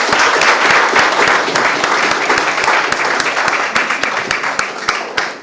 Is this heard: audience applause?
yes